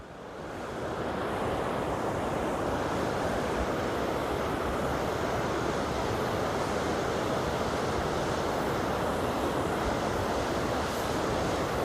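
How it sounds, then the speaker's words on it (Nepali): A waterfall on the Kali Khola river roars as a dense, continuous rush. The sound is loud and steady throughout and nearby, with no voices. "यहाँ तल चाहिँ यस्तो मजाको झरना पनि रहेछ।"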